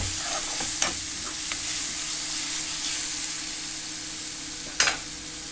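Spring onion greens and moong dal stir-fry with turmeric in a pan, sizzling steadily up close. A few sharp scrapes and clinks from stirring stand out, with a louder knock near the end. No one speaks.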